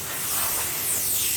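A deionizing paint spray gun coats a car bumper on a rare twin-turbo BMW, producing a steady, loud, close hiss of atomized spray with no pauses.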